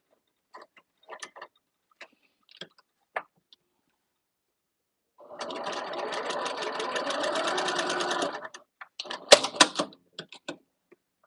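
Sewing machine stitching fabric, a few light clicks and taps followed by a steady three-second burst of rapid mechanical whirring, then more scattered clicks, close and quiet.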